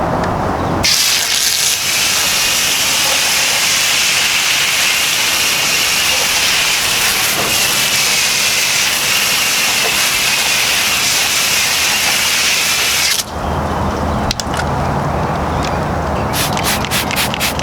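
A water spray rinses a silver Porsche, a loud continuous hissing rush that runs unbroken for most of the time before cutting out, followed by a few short bursts.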